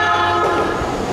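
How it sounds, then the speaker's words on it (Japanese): A train horn blares at Hamamatsucho Station, sounded by the driver as the train passes; a loud, sustained tonal blast with steady harmonics over rumbling rail noise, no talking. "親切な運転手さんはね、あえてバーンやって鳴らしてくれるんよね"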